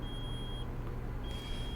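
Steady high-pitched warning beep from a truck in Euro Truck Simulator 2, sounding as a continuous tone that cuts out briefly and then resumes over low engine rumble.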